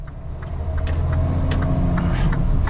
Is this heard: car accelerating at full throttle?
yes